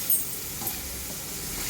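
Boiled chow mein is tossed and stirred in a hot pan, giving a steady sizzling hiss with a couple of soft scraping knocks over a short stretch.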